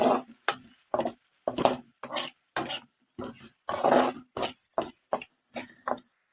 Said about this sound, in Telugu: ఇప్పుడు ఆ పొటాటోస్ దానిలో వేసుకోవాలి అంతా కలిసే విధంగా కలిగి పెట్టుకోవాలి